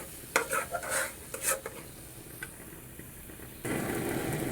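Pumpkin peel mash stirred in an oiled pan, giving a few scraping, clattering strokes over soft background hiss, then a louder steady sizzle near the end.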